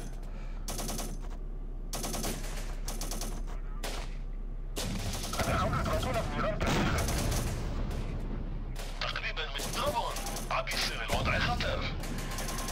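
Gunfire in the Syrian Warfare: Return to Palmyra PC strategy game, with steady automatic bursts and single shots crackling through a dense battle din. Talk is heard over it.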